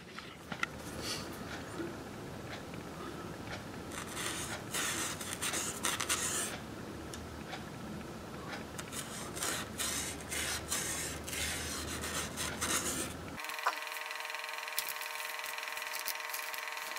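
A tool scrapes the rosette rings flush on the soundboard of a 45-style dreadnought guitar being built, making continuous close rasping strokes for most of the stretch before the texture changes near the end.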